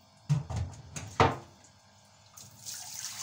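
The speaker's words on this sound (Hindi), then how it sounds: "पूंडी को मैं धोने के लिए ना इसके अंदर पानी डाल के रख देती हूँ" Water splashing and running into a pot set aside for soaking puri dough in a home kitchen, a few close gurgling pours with sink-like rushing, fading to a softer trickle toward the end.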